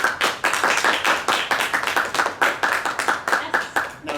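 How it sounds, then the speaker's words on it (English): Audience applause for the narrator at a stage play, a small group clapping in a fast, even rhythm of distinct claps, close and steady for several seconds. "Let's give a round of applause for our esteemed narrator."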